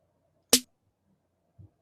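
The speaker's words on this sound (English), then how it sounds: "Here, right here, this is the snare drum" A single sharp snare drum crack rings out once, short and bright, followed by a faint low thump and quiet.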